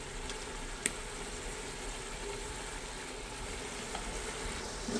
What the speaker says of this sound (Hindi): अब हम इसमें डाल देंगे 2 टेबल स्पून के करीब योगर्ट।